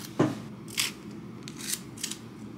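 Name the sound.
peeling a shallot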